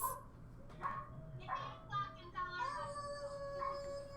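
Dogs howl and bark in the distance at 8 p.m. in a house setting, with several drawn-out rising howls layered over one another, faint and continuous across the whole stretch.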